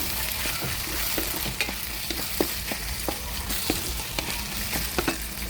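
Hotdogs drop into a frying pan of tomato sauce and sizzle, a close steady fry punctuated by sharp clicks and taps of stirring at an irregular rhythm.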